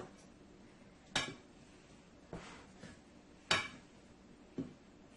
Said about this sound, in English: I'm going to take my spatula and just clean the edge of the bowl